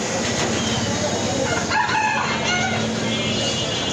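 Chickens, including a large fancy hen, a guinea fowl and a local hen, cluck and crow in a yard; a rooster's crow rises briefly in the middle over a constant close hum of background noise.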